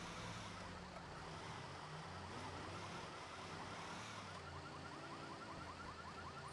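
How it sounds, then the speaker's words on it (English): Police and emergency vehicle sirens wail in a video game, several overlapping rising-and-falling tones from a distance, faint under constant background traffic noise and continuing throughout. "There's definitely sirens around."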